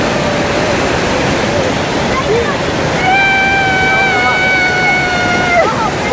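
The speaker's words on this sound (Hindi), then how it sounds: "और ये देखिए यहाँ पे ना हम लोग आबशार में" A mountain waterfall near Naran Kaghan pours cold water in a loud, steady rush that fills the whole clip. Faint tonal sounds, like distant voices or whistles, rise over the roar partway through.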